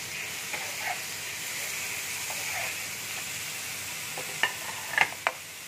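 Tomato drops into hot oil with lightly fried onion, setting off a steady loud sizzle. A few sharp clicks of a utensil against the pan stand out near the end.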